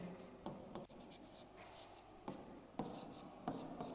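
Pen or pencil writing by hand on paper during a class 4 math lesson on weight, faint close scratching strokes with short pauses, no talking.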